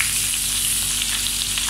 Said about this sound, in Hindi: इनको फ्राई करेंगे गाजरों को।